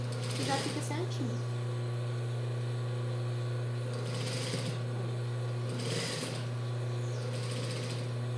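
Overlock sewing machine stitching fabric while a child's romper is sewn, a steady mechanical hum running throughout with rhythmic clattering bursts near the start and middle; a voice talks at points.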